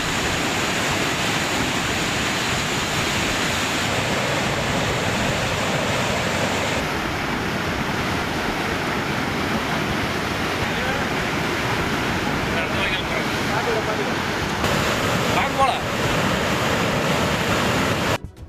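Water released from the Aliyar dam rushes steadily along an irrigation feeder canal near Pollachi, a loud, continuous broadband roar that holds unbroken for the whole stretch with no voices.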